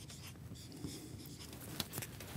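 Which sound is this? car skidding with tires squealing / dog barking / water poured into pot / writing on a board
writing on a board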